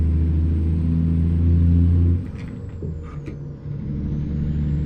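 Truck engine in American Truck Simulator rumbling loud and steady, cut by a sharp air-brake hiss midway, then the engine droning on at lower revs with faint clicks.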